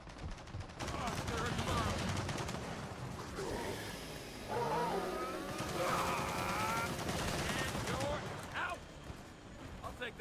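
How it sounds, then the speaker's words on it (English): Turret machine gun fire in the video game Gears of War 4, dense rapid bursts running through most of the stretch amid other combat noise, with voices talking over it. "We've got a turret up here. We're pinned down."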